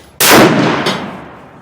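A single sharp rifle shot from a Savage Axis .308 with AccuTrigger and Bushnell scope cracks loudly and close, then rolls off in a long echoing decay with a faint secondary reflection.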